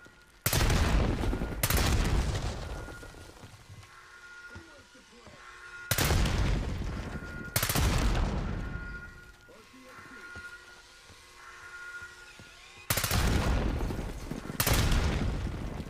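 Gunfire in Call of Duty Black Ops 6, loud heavy bursts of shots and blasts recurring every few seconds with rumbling battle noise between them.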